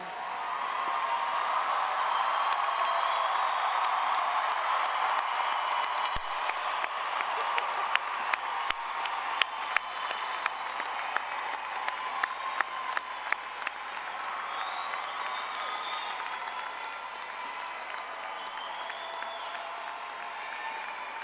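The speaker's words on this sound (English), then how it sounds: "Let's give a round of applause for the class of 2018." A large crowd at a university undergraduate commencement applauds the graduating class in a long, steady wave that stays dense and fairly distant, then slowly thins toward the end.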